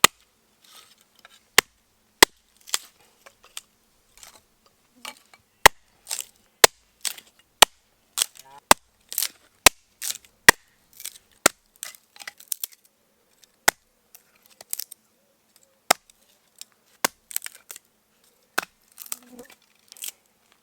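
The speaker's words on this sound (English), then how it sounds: "It's kind of nice to actually chop some wood." Firewood is chopped and split at a riverside campsite, giving sharp, irregular cracks and snaps spread over about twenty seconds with quiet gaps between, close and dry with no talking.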